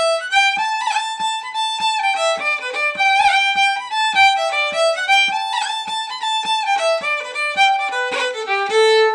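A bright, plucked melody of quick notes with fast roll ornaments, played solo and up close in a lively, steady rhythm.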